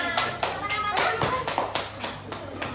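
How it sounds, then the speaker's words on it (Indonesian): Children in a fifth-grade elementary classroom clapping together in a rhythmic, patterned beat, loud and near, with young voices and chatter mixed in. "Nah, oke, tepuk tangan."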